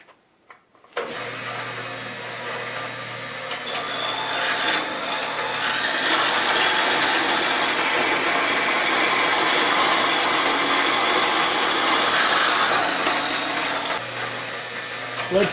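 Repaired bandsaw slicing through a piece of wood, a steady buzzing whine of the blade through the cut with a low motor hum underneath, starting abruptly and running continuously for over ten seconds.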